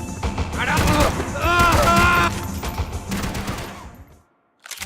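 Gunfire in the video game Max Payne 3: dense, rapid bursts of shots close by and loud, with shouting voices over the firing before a brief silence near the end.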